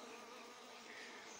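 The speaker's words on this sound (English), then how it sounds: "What is remaining here now is being taken up by these stingless honeybee." Stingless honeybees feed on leftover food in an orchard setting, giving a faint, steady buzzing hum that stays continuous and even throughout, with no voices.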